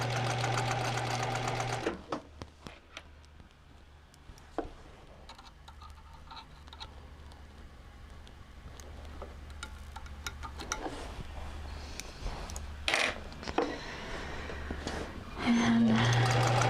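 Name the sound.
sewing machine stitching fabric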